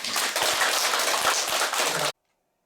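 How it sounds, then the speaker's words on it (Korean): Dense applause from a lecture-hall audience greeting a guest lecturer, steady and fairly loud for about two seconds before stopping abruptly into silence. "자 우리 이봉준 강사님 큰 박수를 많이 주시겠습니다."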